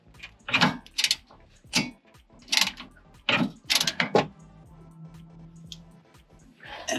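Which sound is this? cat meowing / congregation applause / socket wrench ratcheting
socket wrench ratcheting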